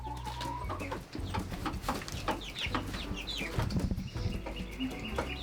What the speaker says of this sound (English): I have a lot of big chickens, but I also have a half dozen of the bantams